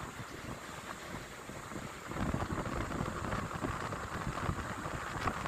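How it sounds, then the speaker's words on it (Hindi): A fast-flowing mountain river near the China border in Pakistan rushes as a steady broadband roar mixed with wind buffeting the microphone. The roar swells slightly louder midway, and no one speaks. "साथ में दरिया चल रहा है"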